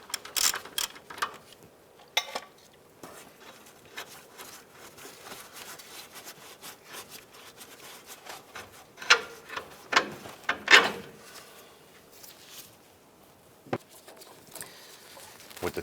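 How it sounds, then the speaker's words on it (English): Forward-mounted upper control arm bolt being removed on a 2003-2012 rear-wheel-drive Chevy Colorado: intermittent bursts of quick ratchet clicking come and go over a quiet garage background. "Let's go ahead and continue to remove this forward mounted control arm bolt."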